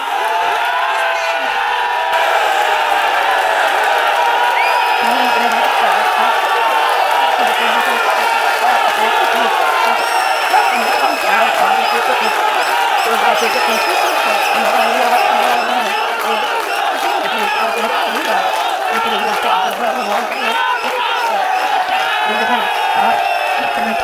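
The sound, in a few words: audience clapping and cheering at a birthday event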